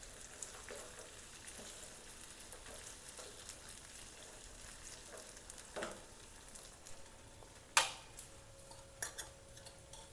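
Sabudana khichdi with potatoes and a spoonful of sugar fries quietly in a pan while being stirred, giving a soft, steady sizzle broken by a few sharp clicks of the spoon near the end.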